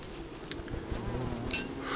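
Bees buzzing in the video game Don't Starve, a quiet, steady insect drone with faint wing-whine flickers and a few soft taps, no voices.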